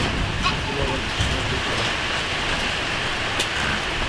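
Steady rain falling in the mountains at a herders' camp, a constant dense hiss of drops with a few louder taps, no voices over it.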